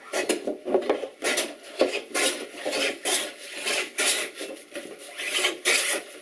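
A blade scraping and cutting across the wooden surface of a bench being resurfaced, in a steady series of rasping strokes, fairly close and alone without talk.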